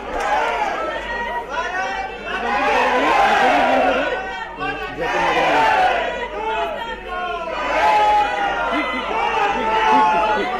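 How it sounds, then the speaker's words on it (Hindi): Councillors at a municipal general assembly meeting raise an uproar, a loud crowd of voices shouting and chanting slogans in waves, with clapping buried in the din. "पार्षद जो हैं वो नारेबाजी करते हुए तालियां बजा रहे हैं।"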